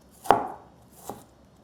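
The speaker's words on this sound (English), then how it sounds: "Cut into thin slices. Then cut into thin strips." Pear being sliced into thin strips on a cutting board, two sharp knife chops close by, the second fainter, separated by a short pause in an otherwise quiet room.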